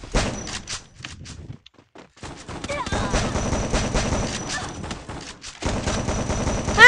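Gunfire in the Free Fire battle royale game rattles in dense, loud bursts of rapid shots, breaking off briefly into near silence and then resuming.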